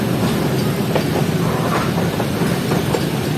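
Passenger train running on rails through rain on the way toward Shadabad Junction in Pakistan, a steady loud rumble with faint rhythmic clatter of wheels under continuous rain and wind noise.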